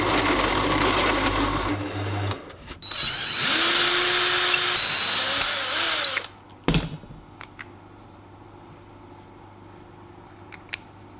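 A power tool cuts a hole to feed a lamp holder through, giving a loud, steady grinding whine that runs for about six seconds, then stops abruptly, leaving a short clatter and faint handling sounds.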